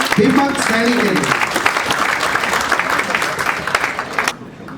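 Audience at a Hindi comic poetry gathering breaking into loud applause for poet Deepak Saini, dense clapping with a voice speaking over the start, then cutting off abruptly near the end.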